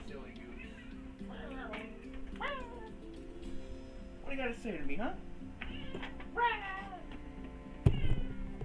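A pet cat named Tubby meows repeatedly up close in varied, drawn-out calls, with a person talking to it in between and a brief clatter near the end.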